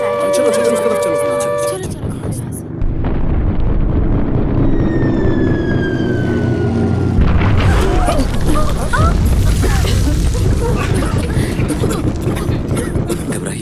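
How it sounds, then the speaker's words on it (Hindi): A wailing air-raid siren rises and falls over rumbling traffic and other street noise in a Hindi-dubbed action movie, loud and close, with a few voices mixed in. "ये क्या है? सायरन की आवाज।"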